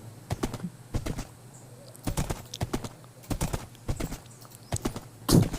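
Horse hooves clip-clop in the video game Minecraft, giving clear, close hollow knocks in quick clusters with brief pauses, ending in a louder burst.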